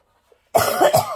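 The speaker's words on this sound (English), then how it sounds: "Still got that cough hanging on." A single close, rough cough bursts out of near silence, with a couple of hacking pulses in quick succession.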